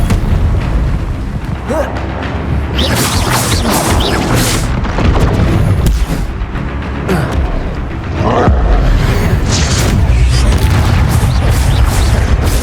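Spells cast in Hogwarts Legacy combat, including freezing, disarming and shield charms, with loud booming magical blasts and crashing impacts layered densely over a continuous game soundscape, while a voice calls out spell names.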